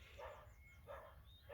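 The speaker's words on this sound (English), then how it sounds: "you can hear the dog barking in the background" A dog barks in the background in three muffled, faint yips spaced evenly over a steady low hum.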